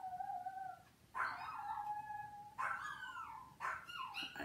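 Several dogs howl and yip in bursts, with rising, wavering cries that start and stop three or four times at a moderate distance, fairly faint.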